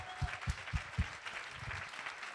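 Audience applause for a performer being introduced on stage, a burst of clapping with a few sharp claps early on that settles into steady, moderately distant applause.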